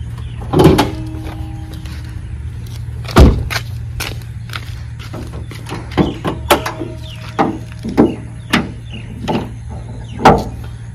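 The bonnet of a Hyundai Grand i10 is handled in a series of separate clunks and clicks: latch pulls and metal knocks, with one louder thump near the start, over a steady low hum.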